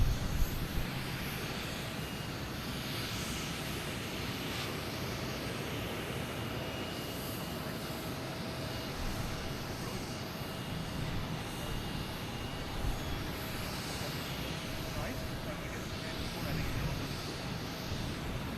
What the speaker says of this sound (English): we have JetBlue coming in, E190 from DC